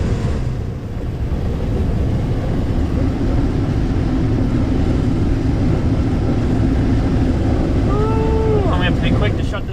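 Combine harvester unloading corn on the go, a continuous loud mechanical roar and rumble of engine and auger heard up close, with a brief voice near the end.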